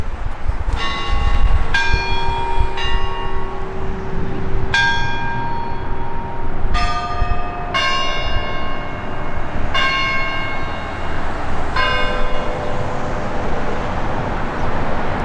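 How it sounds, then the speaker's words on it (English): Church bells ring out loudly in a series of resonant strikes, their tones overlapping and lingering over a faint background of distant traffic, with no talking. "Bells, they just chimed."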